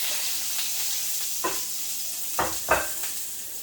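Garlic sizzles in a little hot oil in a pan for a vegetable stir fry, a steady close frying hiss broken by a few brief louder crackling bursts.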